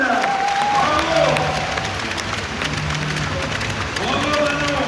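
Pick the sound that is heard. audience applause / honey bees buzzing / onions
audience applause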